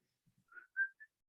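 A few short whistled notes from an acoustic ballad, brief and faint, with a couple of low soft blips before the clear whistled tones.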